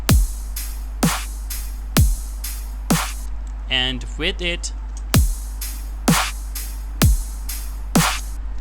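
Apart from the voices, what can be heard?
snare drum with and without transient shaper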